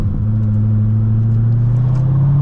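A 2006 Chevrolet Corvette convertible with a six-speed manual gearbox accelerates, its engine a loud, close, deep rumble that climbs steadily in pitch as it revs, with no talking.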